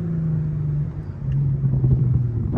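An Infiniti Q50 engine with new intakes revs and rumbles steadily, its pitch climbing slightly, loud and close with no talking.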